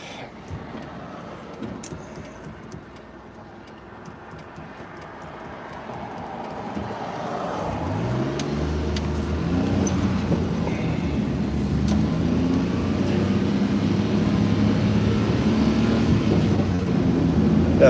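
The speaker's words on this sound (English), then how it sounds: "I'm in the little K truck." A small Japanese kei truck drives along, its engine low and steady, growing louder and rougher after a quieter start as it gets under way, with road noise continuing throughout.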